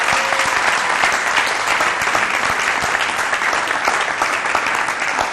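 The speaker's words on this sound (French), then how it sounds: "Est-ce qu'on peut applaudir pour la RDC, s'il vous plaît?" An audience breaks into loud, continuous applause, a thick, even rush of clapping from many people that holds steady for several seconds with no voices on top.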